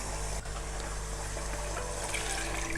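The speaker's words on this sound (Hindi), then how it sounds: "ये इसमें डाल देंगे, पानी भी डालेंगे इसी के साथ" Water pours into a cooking pot holding soaked mash lentils, a steady close rushing stream that runs continuously without a break.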